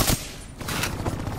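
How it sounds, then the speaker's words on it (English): Rapid gunfire from the video game Call of Duty: Black Ops 3 as bats are shot down, a brief burst of sharp, loud, close shots over continuous game noise. "Shoot down those bats."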